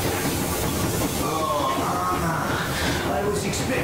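A train rolling on rails in the game Metro Exodus: a steady, loud rumble and hiss of wheels and carriage throughout, with faint metallic squeals, under voices talking.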